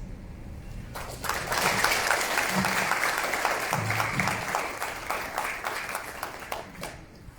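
Audience at a housing-rights panel discussion applauding, a rush of clapping that starts abruptly after a quiet moment, holds steady for several seconds, then fades, with a few faint voices underneath.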